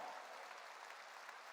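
A church congregation claps during a sermon, a short burst of even, distant-sounding applause, faint and continuous.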